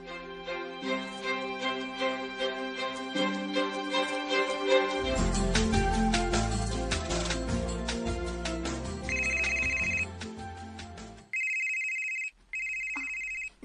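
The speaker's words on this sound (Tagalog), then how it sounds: "Naana sa'y tawag. Imurong cellphone ang niring." A cellphone rings loudly with a melodic ringtone that plays for about ten seconds, then gives way to repeated electronic beeping tones, with no one speaking.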